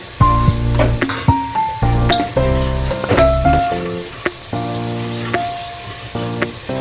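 Crushed ginger and garlic frying in a pan of hot oil, sizzling loudly up close with repeated sharp clinks and scrapes of a spoon stirring, and no talking.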